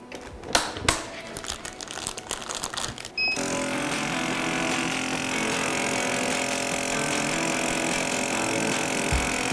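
A vacuum sealer machine evacuates a bag holding a meat skewer, first with a few close crinkling, tapping handling noises, then a steady loud motorized pump hum that runs on unchanged to the end.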